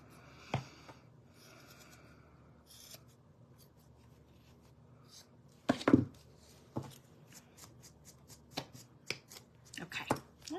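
A craft piece is trimmed by hand, producing sparse soft snips and rustling paper-like handling sounds, quiet and close, with one louder crisp cut partway through.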